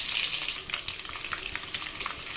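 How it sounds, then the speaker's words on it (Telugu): Turmeric and chili powder frying in a pan for an Afghani egg kurma, a bright continuous sizzle with intermittent stirring scrapes and clicks, close and alone. "అదే ప్యాన్లో పసుపు, కొంచెం కారం వేసేసి ఫ్రై చేసుకుందాం"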